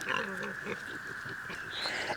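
Pigs on a farm grunt and oink close by in a quick, irregular string of low snorts and squeals over a continuous background din, with no one talking.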